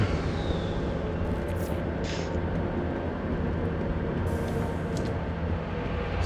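The engine of an ironclad ship in a video game gives a dense, steady low rumble and drone, loud and constant like a jet or train. A few faint, brief higher hisses sit on top, and no one speaks.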